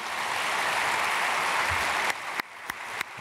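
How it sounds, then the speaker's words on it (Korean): Church congregation at a Korean Sunday service applauding to welcome newly registered members, steady dense clapping for two seconds that thins into a few scattered final claps. "우리 크게 박수로 환영하겠습니다"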